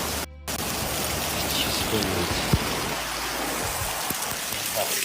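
Heavy, non-stop typhoon rain pours down as a steady, dense wash of noise that carries on without a break, with a few faint knocks and scattered sounds beneath it.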